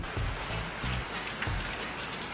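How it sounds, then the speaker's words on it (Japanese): Heavy, sudden torrential downpour drumming steadily on surfaces around a car being worked on during an alternator replacement, a dense continuous hiss of rain with low thuds, loud and close throughout. "ゲリラ豪雨が降り始めました。"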